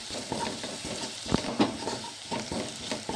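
Ponnanganni greens curry is stirred in a pan with salt and chili powder, giving a continuous soft sizzle under a few muffled spatula knocks and scrapes, close and moderate, with no talking.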